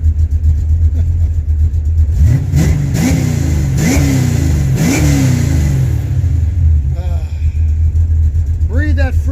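A project car's engine, started for the first time in 26 years, revs up loudly several times in quick bursts, then settles back to a rough idle, close and dominant.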